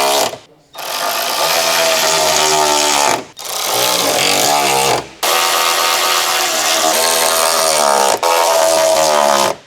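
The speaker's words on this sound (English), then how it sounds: "Use an electric ratcheting wrench with a medium 10mm deep socket. Tighten the nuts between the step and the bracket." An electric ratcheting wrench with a 10mm deep socket tightens the side step bracket nuts on a 2010-2016 Land Rover Discovery 4. It comes in four loud buzzing bursts separated by short pauses, close and harsh.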